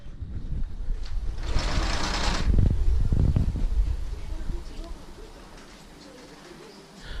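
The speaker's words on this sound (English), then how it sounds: "my dad was like, oh, let me run it through the sewing machine" A home sewing machine running a seam, a brief buzzing whir that starts up, runs for about a second and stops, heard close and amid background room noise and muffled voices.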